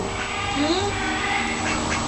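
A pet duck quacks close by in a home, a few rising nasal calls under steady background noise while a person speaks softly.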